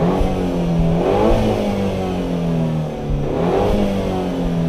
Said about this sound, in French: juste écouter le petit son de la voiture